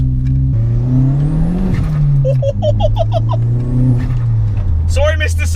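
A modified 264 bhp Seat Ibiza Cupra accelerates hard under boost, its engine note rising and falling through the revs as the wheels briefly spin, with a squeal near the end, loud and close inside the car under someone talking.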